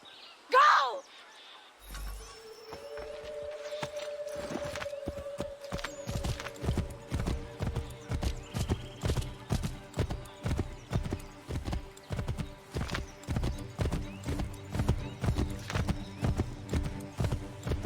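Steady clip-clop of horse hooves in Assassin's Creed 3 builds into a regular rhythmic trot after a brief whinny, with a sustained tone beneath; close and fairly loud.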